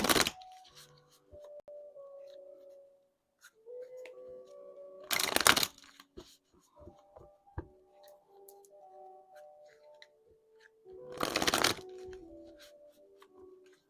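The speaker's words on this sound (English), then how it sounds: "Let's go one more shuffle here." A deck of cards being shuffled at close range, two sharp riffling bursts several seconds apart, with light handling clicks and quiet tones from soft background music between them.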